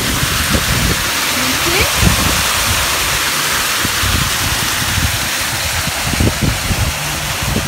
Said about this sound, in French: il pleut des cordes en plus